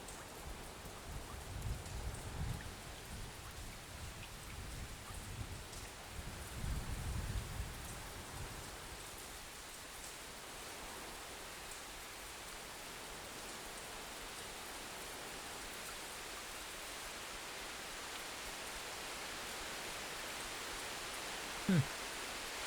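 Rainfall in the video game Xenoblade Chronicles 2, a faint steady hiss of rain with low rumbles early on, continuing quietly throughout.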